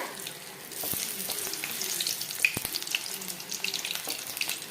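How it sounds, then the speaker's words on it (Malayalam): Chicken lollipops bubble and hiss in hot oil over a medium flame, a steady wet sizzle with occasional pops and small clicks. "ചൂടായ എണ്ണയിലേക്ക് നമുക്ക് ഈ ലോലിപോപ്പ് ഓരോന്നോരോന്നായി ഇട്ട് കൊടുക്കാം"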